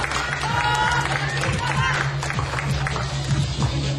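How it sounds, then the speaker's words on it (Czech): An audience applauds at a regional youth quiz contest in a hall, with mixed clapping and crowd noise under a steady low hum and some cheering voices. "To chce potlesk, ano, ano."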